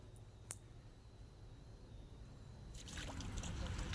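Live fish let go into open water, a sharp click early on, then a swelling wash of splashing and sloshing that grows louder and closer toward the end.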